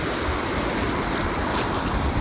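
Sea water surges and churns around a wader's legs in the shallows at Porto de Galinhas beach, a loud continuous rush with wind buffeting close to the microphone and no talking.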